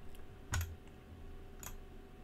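A cheap gaming keyboard gives a couple of quick, faint key clicks in an otherwise quiet room, one sharper press and a lighter one a second later.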